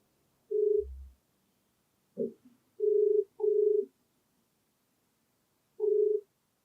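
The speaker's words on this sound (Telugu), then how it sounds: "ఒకసారి కాల్ చేసి మాట్లాడదామండి." A phone call being placed: a few short, steady dial-type tones sound one after another with gaps between them, alone and with no talking.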